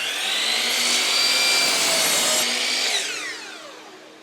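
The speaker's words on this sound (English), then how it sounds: "I'll cut these to length on the miter saw." A miter saw cuts wooden rails to length for a circle-cutting jig, giving a loud, steady whine for about three seconds before winding down and fading.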